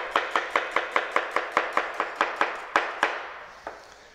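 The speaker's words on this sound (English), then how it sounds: "Really fine when you cut the red onion." Knife chopping red onion finely on a board: a steady run of about fifteen crisp, close, evenly spaced chops, slowing near the end with one last stroke, no talk.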